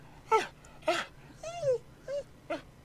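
A dog in Never Apart gives a series of five short whimpers and whines, some rising and falling in pitch, spaced about half a second apart and heard alone over a faint low hum.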